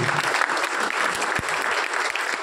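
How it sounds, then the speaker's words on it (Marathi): Hall audience in Kolhapur claps steadily, a dense, even wash of many hands with no talk over it. "या सगळ्या जोरदार टाळ्या वाजवा तुमच्यासाठी."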